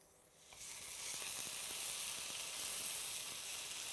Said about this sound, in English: it's searing nicely